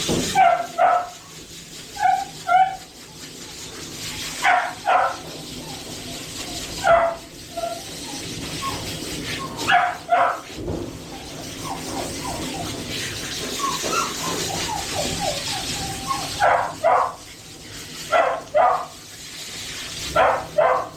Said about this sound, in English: That's when I notice the dog's barking.